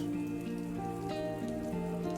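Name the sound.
rain falling, from a visual novel video game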